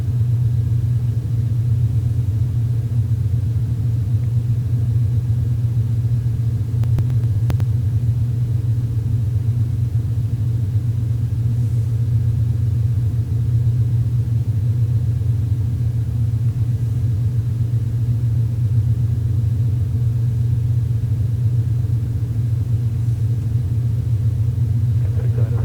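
A Cessna 210 Centurion piston engine in X-Plane 11 drones at low power while taxiing. The rumble is steady, loud and close and continues unbroken throughout.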